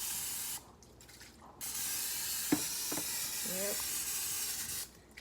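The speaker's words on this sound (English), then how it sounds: "Let me do a little bit of spraying." Short hissing bursts of non-stick cooking spray, close by, with a few soft taps and a brief spoken word.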